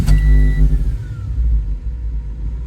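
A 1992–95 Honda Civic with an ignition switch problem cranks and catches with a sharp burst, then settles into a low, uneven rumbling idle close by, a faint whine fading early.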